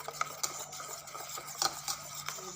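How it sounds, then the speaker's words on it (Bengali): A spoon clinks and scrapes in a tiffin bowl, mixing egg with mustard oil in a few quick, close stirring strokes, with a faint hum behind. "দিয়ে একটু ভালো করে মিশিয়ে নিই"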